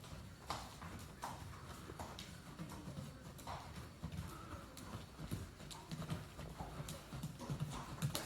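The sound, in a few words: horse hoofbeats during riding lesson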